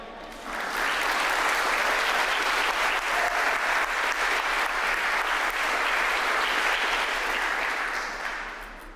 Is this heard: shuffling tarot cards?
no